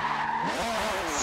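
Tires squeal as a Formula 1 car slides sideways while drifting in Forza 7, a sustained skid with a pitched whine that bends downward, engine noise underneath, loud and close.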